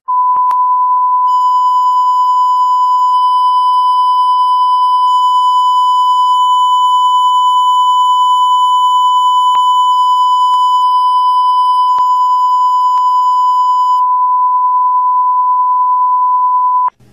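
Steady electronic test tone held at one pitch for about fourteen seconds while its level steps up in stages and back down, thin harmonics appearing at the louder steps, brief clicks at a few step changes, no voices.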